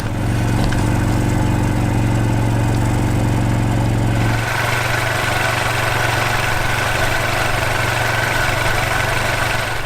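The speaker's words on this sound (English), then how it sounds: "It's a little bit tractor-like, a little bit of a diesel clatter" A 2020 Mercedes GLB diesel engine idles with a steady low clatter, loud and close, shifting to a lighter, quieter running tone partway through.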